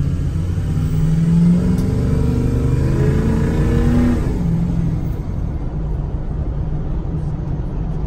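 2005 Ford F-250 diesel pickup accelerating through gears, a steady loud engine drone heard from inside the cab with rising tones that drop at a shift, then a lower rumble.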